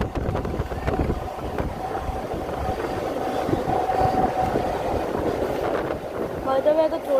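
Mumbai suburban EMU train on an Andheri–Virar double fast run, a steady rumbling rail roar with wind buffeting throughout, recorded close from aboard the moving train, with a brief whining tone near the end.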